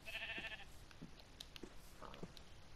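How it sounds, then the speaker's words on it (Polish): Sheep in the video game Minecraft bleating, a few short, nasal calls spaced across a couple of seconds over quiet game ambience, fairly close and clear. "Chyba owca, chodź."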